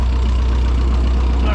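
An Allis tractor engine idling, a loud steady low throb with a faint uneven knock, continuous and close throughout.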